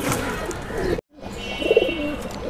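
Pigeon held in the hand, a young bird of a fancy breed on a pigeon farm, giving a soft low coo after a brief gap, with handling rustles and faint background noise.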